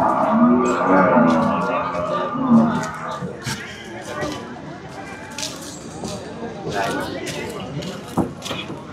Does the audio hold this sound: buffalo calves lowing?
yes